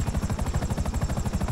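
Helicopter in the GTA 5 video game, a steady, loud rotor chop with fast regular blade pulses thumping throughout under a constant turbine whine.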